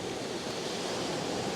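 Incoming sea water washes up a sandy beach at dawn as a continuous broadband surf rush. The sound is fairly soft and steady, with possible wind noise mixed in.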